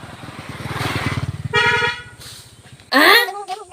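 A motorcycle on a road in the morning: a close engine rumble that builds and fades, with a horn toot and voices talking over it.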